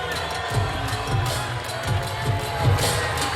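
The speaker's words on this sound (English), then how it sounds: "how about a round of applause for Ruben Lon?" A crowd applauds and cheers for Muay Thai fighter Ruben Lon at a fight event, a continuous moderate roar of clapping and voices, with an announcer's amplified speech running over it.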